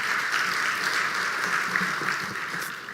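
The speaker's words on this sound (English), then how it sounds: "Once more, a round of applause, ladies and gentlemen, for Ms. Sulu" Audience applause at a South African summit, a dense, steady wash of clapping from a large crowd that holds at an even level throughout.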